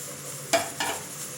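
Carrot halwa (gajar halwa) being stirred in a pan, giving two short scraping stirs spaced about a quarter second apart over a soft low background, with no talking.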